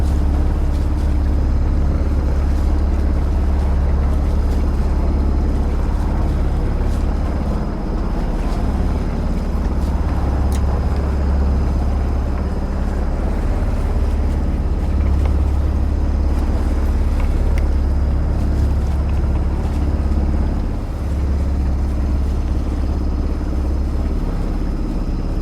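A sailing boat moves through a scenic harbour, with a steady, loud rush of wind and water that runs unbroken throughout and a low rumble underneath.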